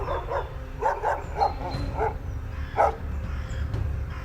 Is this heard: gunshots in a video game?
no